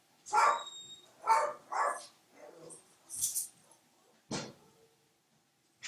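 Several sharp dog barks and yips ring out in quick bursts, fairly close, with short pauses between them and no talking.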